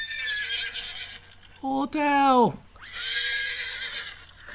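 A person mimics a horse's whinny with a loud, wavering, descending voiced neigh, framed by brief talk from another voice before and after.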